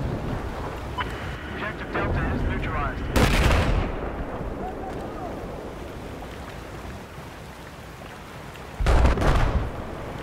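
Battlefield 4 gameplay with loud, close bursts of machine gun fire, one heavy burst near the start and another near the end, over constant battlefield rumble and noise.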